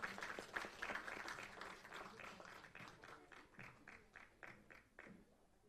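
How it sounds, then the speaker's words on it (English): An audience at a live business event claps for a young entrepreneur on stage, a moderate, fairly distant patter of applause that thins out toward the end. "A huge round of applause for this young talent."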